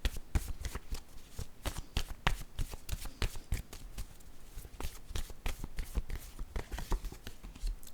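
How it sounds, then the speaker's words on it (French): Game cards being shuffled by hand in a rapid flurry of crisp, riffling flicks and soft slaps that continues steadily throughout, close and fairly quiet, with no voices. "Allons-y avec la carte mot."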